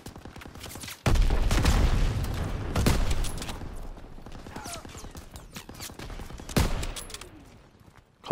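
Machine gun fire rattles from a farmhouse hayloft during a Call of Duty WWII battle, with loud, dense bursts and sharp booming shots punctuating a continuous barrage of gunfire and explosions.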